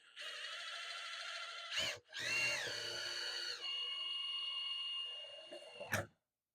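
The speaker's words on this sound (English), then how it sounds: "the sound of the drill is telling you when you're about to go through the metal" A power drill whines at a high pitch as it bores through metal, its tone shifting and rising before cutting off briefly, then resuming steadily and stopping.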